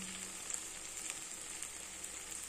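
Chandramukhi potatoes fry in hot oil with a steady, faint sizzling hiss that runs continuously and evenly throughout, with only slight flickers of stirring and no voices.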